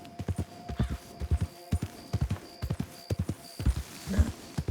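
In Red Dead Redemption 2, several horses plod along in a repeating clip-clop rhythm, the hoofbeats clear and moderately near with no talking.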